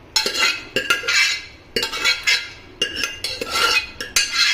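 A spoon stirs chopped vegetables in a pot for a sour buttermilk curry, with repeated scraping and clinking against the metal in a steady rhythm, close and moderately loud, no voices.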